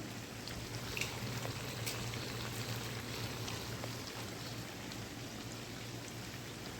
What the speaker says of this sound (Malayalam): ചിക്കൻ നമ്മൾ മാരിനേറ്റ് ചെയ്ത് വെച്ചത് വറുത്തെടുക്കുകയാണ്